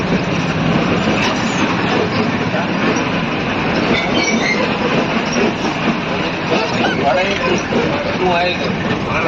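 A train rumbles steadily at Navagadh railway station in Gujarat, loud and continuous with broadband roar and faint wheel squeal throughout, with no talking.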